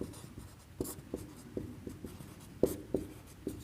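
A teacher writes on a classroom board during a class 11 chemistry lesson, producing a series of short, evenly spaced scraping taps and strokes, close and fairly quiet, with no talking.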